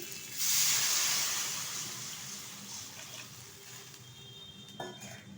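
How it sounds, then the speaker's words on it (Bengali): Water goes into a hot pan of simmering rohu fish curry with potatoes, setting off a loud hissing burst that slowly fades into a softer bubbling sizzle. "এখন দিয়ে দেবো পরিমাণ মতো জল"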